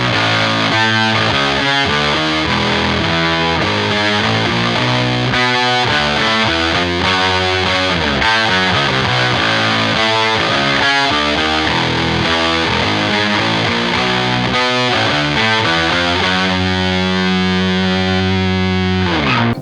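A rock groove: heavily distorted electric guitar doubling the bass line, with whammy pitch-shifting on the guitar. Dense and loud, a steady driving riff with no talking.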